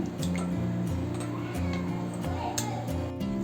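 Potato slices swishing and sloshing in a bowl of water as they are rinsed for chips, soft wet splashes and drips close by over a repeating low background hum.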